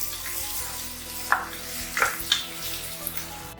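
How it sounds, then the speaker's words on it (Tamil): A large grated onion sautés in a pan until golden, making a dense, close sizzle with a few light metallic taps from stirring; no one speaks. "நல்லா பொன்னிறமாகிற வரைக்கும் நல்லா வதக்கி விட்டுறணும்"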